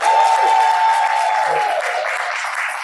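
Audience at a Black History Month event bursting into loud applause on cue: thick, continuous clapping with cheering voices and a whistle, close and strong throughout.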